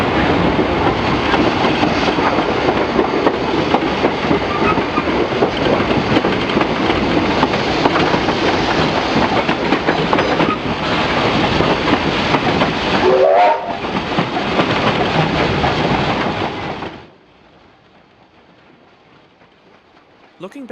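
A steam locomotive, WW 480, rumbles loudly and continuously along the track with rhythmic clatter on a steep 1 in 42 incline of the Glenbrook Vintage Railway, then the noise drops away abruptly near the end, leaving near silence.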